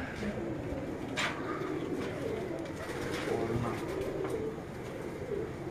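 Soft pigeon cooing rises and falls continuously under a steady outdoor hum on a rooftop during a pigeon-flying tournament in Gujrat, with a few faint chirps scattered through.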